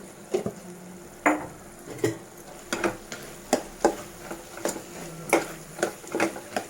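A spoon stirs an okra and prawn curry with chili powder in a pan, making a steady run of sharp scraping clicks and knocks roughly every half second, close and fairly quiet, with no talking.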